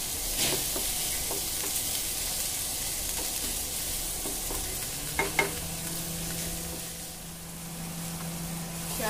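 Onions sizzle steadily in a hot pan while a utensil stirs them, making soft scrapes and a couple of sharper clinks over the continuous close frying hiss.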